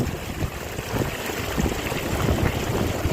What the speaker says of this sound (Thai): ลมแรงมาก